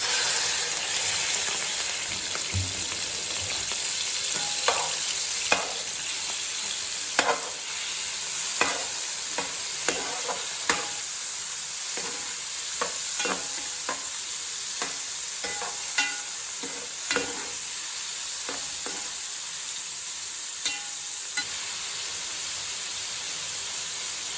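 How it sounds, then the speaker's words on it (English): Prawns hit super-hot oil in a pot for prawn fried rice, giving a constant loud sizzling hiss broken by sharp spattering pops and occasional stirring clatters, close up and with no voices, lasting throughout. "Now the oil is super hot. Let's add our prawns."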